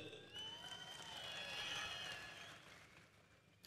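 A crowd applauds during a Raj Thackeray political speech in Raigad, a faint, distant, steady wash of clapping that swells and then fades away.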